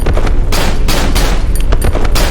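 Dense, continuous gunfire from a horror video game, Cry of Fear, with shotgun blasts and handgun shots crowding together into a loud, nonstop barrage with no pauses.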